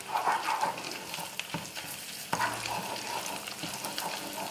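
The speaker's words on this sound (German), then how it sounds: "So schön vermischen, Tomatenmark etwas anbraten." Tomato paste fries with garlic in butter in a pan, a close steady sizzle broken by scraping stirs and a couple of clacks from the spoon.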